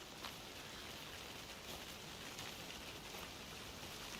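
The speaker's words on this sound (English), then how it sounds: "Why it gotta be raining in at night?" Steady night rain in the video game Alan Wake 2 falls in a dense, even hiss with faint scattered drop ticks, continuous throughout and with no voices.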